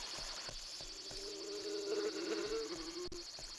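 Bees buzz steadily in a summer countryside area of the PSP game Boku no Natsuyasumi, a continuous mid-level drone mixed with insect chirps and faint rhythmic clicks, with no talking.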